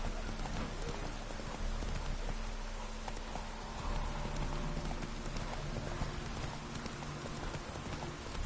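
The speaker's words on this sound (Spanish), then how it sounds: "Corre lo más rápido que pueda, Roach." A horse galloping in The Witcher 3 video game, a fast, continuous clip-clop of hooves over a dense, rain-like background hiss, steady and close throughout.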